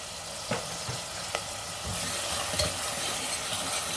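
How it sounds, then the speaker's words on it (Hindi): Onions sautéing with salt in a pan, steady frying sizzle with a few stirring scrapes of the spoon, close and continuous with no talk. "प्याज को हमें थोड़ी देर तक भून लेना है, ज़्यादा नहीं भूनना है, हल्का सा इसे भून लेना है"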